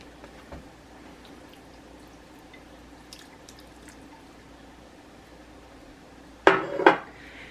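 Bite-sized shrimp dropped into a pot of seafood sourdough chowder: quiet kitchen ambience, then two close, sharp clattering splashes near the end as the pieces go in.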